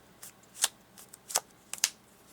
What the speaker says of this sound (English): So you have the basic like hand shuffle, just like this.